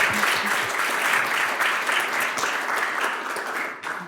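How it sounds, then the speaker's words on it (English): Audience applause after a CodamX talk by Carmen Podar, dense clapping from a room of listeners that holds steady for about four seconds, then quickly tapers off at the end. "One more round of applause."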